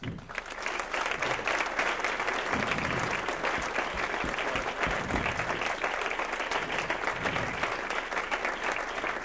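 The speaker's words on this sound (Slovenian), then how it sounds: "Mislim, da si vsi skupaj zaslužijo en gromak aplavz." Sustained audience applause after a round-table panel discussion on Europe's future, dense steady clapping from a seated crowd filling the room for several seconds.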